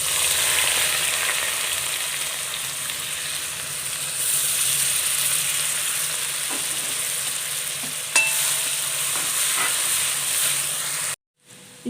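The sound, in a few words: ginger, garlic and green chillies sizzling as they fry in a pan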